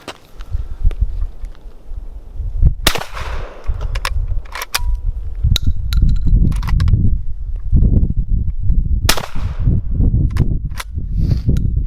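Shots from an old Mossberg 183 KE .410 bolt-action shotgun with a built-in variable choke, fired outdoors: about a dozen sharp, loud reports at irregular intervals, some in quick pairs, over a rumbling windy background, without talk.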